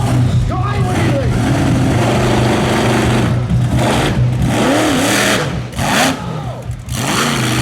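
A drag racing car launches in a wheelie at Santa Pod during the European finals, its engine roaring loud and sustained throughout, with a crowd and voices mixed underneath.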